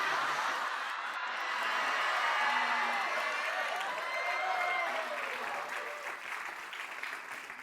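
A TV studio audience on an Indonesian comedy show claps continuously with scattered cheers and whoops, steady crowd noise with some voices talking over it.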